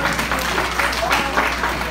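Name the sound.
crowd applause for a horse rider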